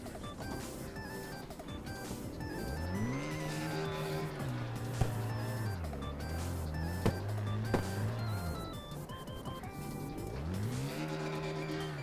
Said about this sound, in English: it was just me drifting this snow map